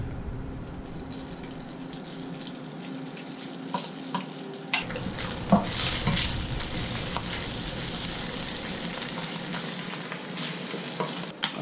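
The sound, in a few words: stir frying rotisserie chicken skin in oil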